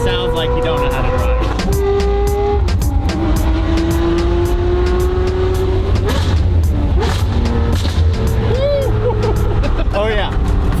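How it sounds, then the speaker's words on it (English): A Ferrari's engine revs hard through the gears with rising and falling pitch and sharp exhaust pops and bangs crackling between shifts, loud and close from inside the car while people talk over it. "Oh yeah, I forgot about the pops and bangs."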